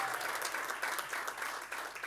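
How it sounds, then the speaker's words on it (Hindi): Dense audience applause at a Navratri dandiya event in Borivali, sustained and even for about two seconds with no talking over it. "जोरदार तालियां हो जाएं।"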